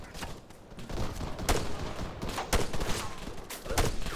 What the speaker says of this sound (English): The recoil is quite extreme in this. I mean, I know I'm standing and firing.